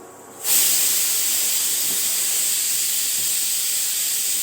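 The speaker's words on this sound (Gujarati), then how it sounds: "હવે આપણે આપણી દાળને ઉકળવા દઈશું" After a brief quiet moment, a steady loud hiss of steam starts and continues evenly, like a pot of dal boiling vigorously on the stove.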